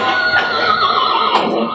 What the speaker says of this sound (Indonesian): Suara kuda.